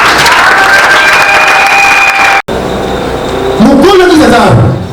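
A church congregation applauds and cheers in acclamation, a dense, loud wash of clapping with sustained tones over it, briefly cut off, then returning under a speaking voice.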